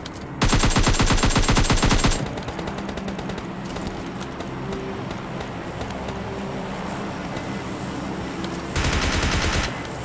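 PP-Bizon submachine gun fire in PUBG Mobile Lite: two loud, rapid automatic bursts, one near the start and one near the end, with a steady background rumble in between.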